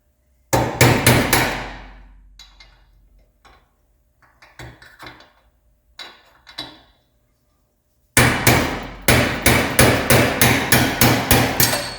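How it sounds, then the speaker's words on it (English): Sharp metallic hammer blows on a chisel driving out a rear suspension bushing on a Porsche 911T, in two rapid bursts of about ten strikes each, with a scattering of lighter taps and clinks between them, close and loud. "we're going to be hitting the back of the lower one, if that makes sense, to hammer that out"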